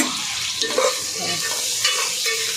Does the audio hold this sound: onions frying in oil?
yes